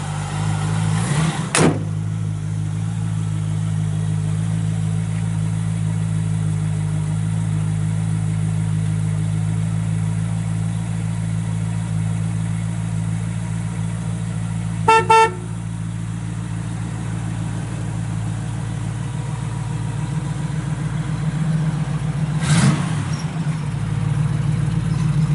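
A 1968 Chevrolet Camaro with a 327 four-barrel V8 and mild cam idles steadily with a low, even rumble, broken by a couple of brief clicks or knocks.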